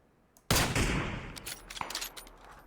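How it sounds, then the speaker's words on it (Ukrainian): A loud burst of gunfire in the video game PUBG erupts suddenly, followed by scattered shots and crackling echoes fading away. "вже по мені стріляє"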